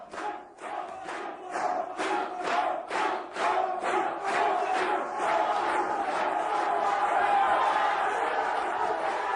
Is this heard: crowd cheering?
yes